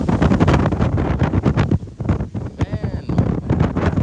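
Strong wind buffets the microphone outdoors during a typhoon, a steady rough roar with gusty surges and brief lulls, loud and close throughout.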